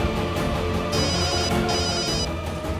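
A telephone rings in a steady, continuous electronic trill through a home scene, with bursts of bright ringing tone layered over ongoing background sound, fairly loud and close.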